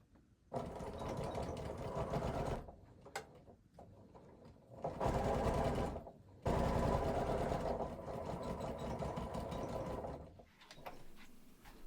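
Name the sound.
sewing machine sewing a trouser seam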